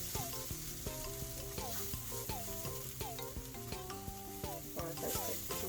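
Food sizzling and being stirred in a pan while cooking a low-calorie chicken and vegetable dish, a soft steady fry under louder background music with tonal melodic lines throughout.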